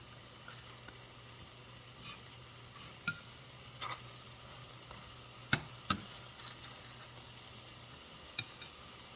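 Chicken with Boursin cheese cooks in a pan with a low, steady sizzle, broken by a few sharp scrapes and clacks of a utensil stirring against the pan.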